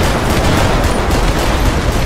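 A modded gun in GTA 5 fires rockets, a dense, loud continuous barrage of blasts with no pauses, filling the whole moment.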